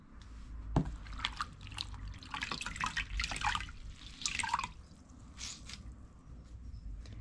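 Water dribbles and drips as sewn thread on a small stitched cap is wetted, with irregular splashy trickles and squishy handling sounds, fairly faint and close.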